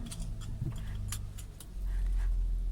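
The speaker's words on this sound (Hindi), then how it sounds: "और ये गाड़ी स्टार्ट कर दी।" A 2018 Kia Carnival engine starts: keys rattle at first, then the motor catches into a low, steady idle rumble that fills the rest of the moment.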